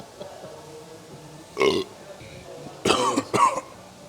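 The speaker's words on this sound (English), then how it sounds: "Now I've just burped and shit." A person burps after eating a Five Guys fast-food meal: three short, loud, close eructations spaced across a few seconds, with no talk over them.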